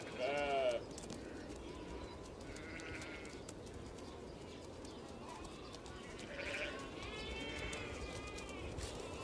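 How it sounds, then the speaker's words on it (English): Domestic sheep bleat across the Kazakhstan plains, a few bleats near the start and again later, some close and some farther off, over steady outdoor ambience and a narrating voice. "Domestic sheep."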